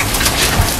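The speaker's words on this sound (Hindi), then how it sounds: "बारिश से ज्यादा ये देखिए इतनी ज़बरदस्त जो है बर्फ पड़ रही है।" Heavy hail and rain pelt down outdoors during a storm, a loud, dense, continuous hiss of impacts with a low rumble underneath over a short moment.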